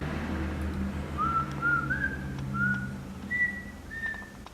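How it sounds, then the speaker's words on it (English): A woman whistles a short, slightly wavering tune alone, a series of sustained clear notes rising and falling over a low room hum. "So let me try and whistle something."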